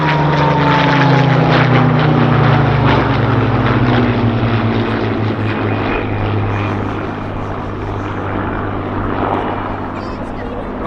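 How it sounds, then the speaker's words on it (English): Hawker Hurricane propeller fighter at an RAF airshow, its engine droning loudly and steadily throughout with a slowly falling pitch as it passes, with a voice speaking faintly beneath it. "this Hurricane, flown by one of Number 253 Squadron's Polish pilots, Pilot Officer WMC Samolinski, was involved"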